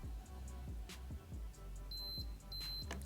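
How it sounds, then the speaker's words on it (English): Two short, high electronic beeps sound a moment apart from a Cisno portable Nespresso coffee maker, over a low background hum and a few soft knocks. "It should beep twice."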